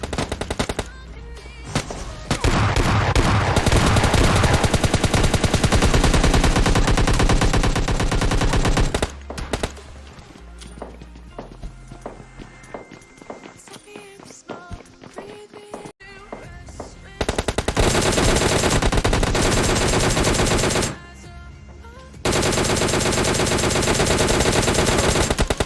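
Gunfire in PUBG Mobile Lite: long bursts of rapid automatic fire, loud and close, broken by quieter stretches with scattered single shots and game sounds, then more sustained bursts.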